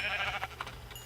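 Minecraft sheep bleat in a short wavering cry, close and clear over faint game background hum, with no talking.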